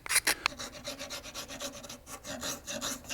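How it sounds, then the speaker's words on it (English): A scraper works soft, warm glue and spruce fibers off an acoustic guitar bridge area in close, faint, repeated rasping strokes, with a few sharper scrapes at the start. "I want to come in and scrape off any glue, little fibers of wood, while the glue is still soft"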